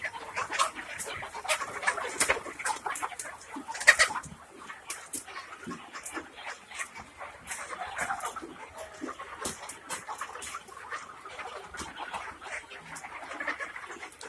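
Three-month-old hens on a poultry farm in Karnataka, a busy mix of clucking and chirping bird calls close by, with a dog-like yelp partway through and no talking.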